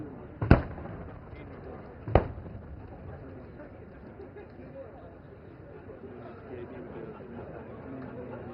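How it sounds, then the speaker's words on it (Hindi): Two sharp, loud blasts of firing from an Arjun main battle tank's main gun and BMP-2 Sarath anti-tank guided missile launches at a live-fire military exercise in Pokhran, Rajasthan, spaced a couple of seconds apart over a rumbling outdoor background with distant crowd chatter. "मेन बैटल टैंक अर्जुन अपने मेन गन से और BMP-2 सारथ अपने anti tank guided missile conquers के संगठित फायर से टारगेट ग्रुप 3 में दुश्मन के टैंकों"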